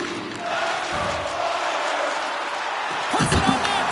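Arena crowd in the NHL 26 hockey video game, a steady broad roar filling the background during a tie game, with a louder swell near the end under commentary.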